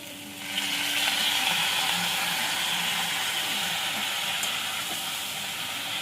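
Malabar spinach greens hit a pan of frying vegetables and spices, setting off a loud, steady hissing sizzle that swells at the start and holds nearly constant, with no voices over it.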